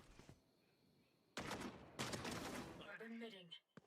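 Pistol fire from the Sheriff in the tactical shooter Valorant during a professional match: a couple of sharp, loud shots in quick succession, followed by a voice at the end.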